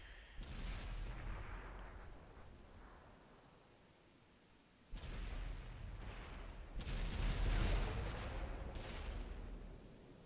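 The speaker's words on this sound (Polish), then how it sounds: "Pada bardzo dużo niecelnych strzałów, rykoszetów." Gunfire in a competitive clan video game match comes as bursts of sharp shots and rumbling blasts. There is a quieter lull, then denser, louder volleys follow.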